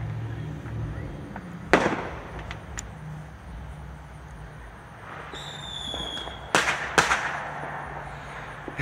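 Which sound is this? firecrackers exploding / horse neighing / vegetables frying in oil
firecrackers exploding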